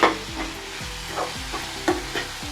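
Fenugreek masala with turmeric sizzles in a pan while a spoon stirs and scrapes, heard as a close, steady fry hiss with rhythmic stirring strokes and no talk.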